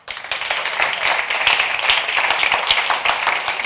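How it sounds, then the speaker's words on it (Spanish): Live audience applause welcoming guests at a San Sebastián film festival talk event, dense close clapping throughout, loud and steady. "vamos a darles un fuerte aplauso."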